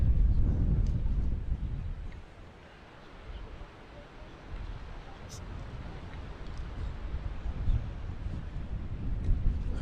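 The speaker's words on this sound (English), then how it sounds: "the wind is kind of playing games again, gusting and breaking and gusting" Gusting wind outdoors at a kubb match, a low rumbling roar of buffeting against the microphone that eases briefly and then builds again, with voices talking over it.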